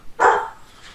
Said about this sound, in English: Dogs are going to interrupt my outro.